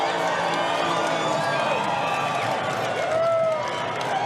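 Crowds cheer and whoop along the route of the Toronto Pride parade in 2019, a dense, steady roar of many voices with scattered shouts and clapping, loud and continuous throughout.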